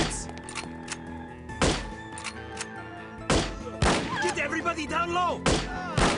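In the classic shooter No One Lives Forever, gunfire lands as several heavy, thudding shots spaced across the moment, loud and close, while a voice shouts orders.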